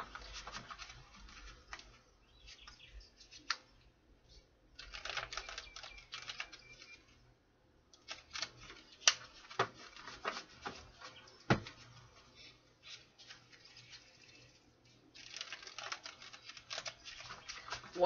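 Tarot cards are shuffled close up in quiet bursts of soft riffling and patter, broken by short pauses and a few sharper taps as the deck is squared.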